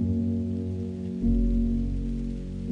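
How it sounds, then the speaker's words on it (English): Soft rain falls in a steady, gentle patter, quiet and even throughout, with a fuller low rumble swelling in partway through. "Soft rain begins to fall."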